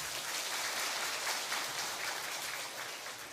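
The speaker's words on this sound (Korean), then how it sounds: "박수해 주시기 바랍니다" A church congregation claps during a Sunday worship service, a steady wash of crackling handclaps from many people filling the room without a break, with no talk over it.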